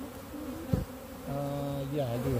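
Bees buzz close by at an organic bee farm, a steady droning hum that rises in pitch and loudness partway through, with a brief thump near the start.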